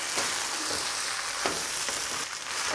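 Sausage fried rice with soy sauce sizzles loudly in a pan while being stirred, the steady frying hiss broken by a few scraping, tossing strokes of the utensil.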